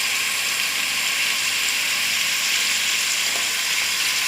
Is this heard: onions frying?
yes